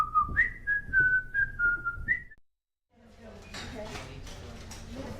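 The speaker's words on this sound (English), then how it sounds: "Then he stuffed his hands in his pockets, whistled, and swaggered off." A man whistles a short wavering tune for about two seconds, clear and fairly close, before a brief silence and then faint room clatter.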